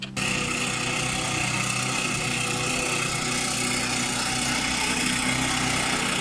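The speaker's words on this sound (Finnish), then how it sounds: "sitten alkaa tämä pellon niittäminen" A lawn mower cutting a field, its engine running steadily and fairly loud throughout at a constant pitch, starting abruptly right at the beginning with no talk.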